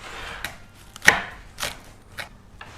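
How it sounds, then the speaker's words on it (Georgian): A knife chops green onion on a board with a handful of separate, sharp, close thuds spaced irregularly, one louder than the rest, and quiet between strokes. "მწვანე ხახვი დავჭერეთ ცოტა."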